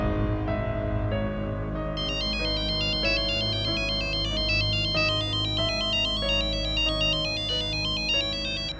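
A phone ringtone plays continuously over a steady musical backing, its bright repeating melodic pattern loud and close, with no talking.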